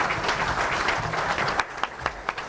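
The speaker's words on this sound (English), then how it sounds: "Let's do a round of applause for the panel." An audience at a green hydrogen panel session in Gandhinagar claps for the panel, dense applause that thins into a few separate claps near the end.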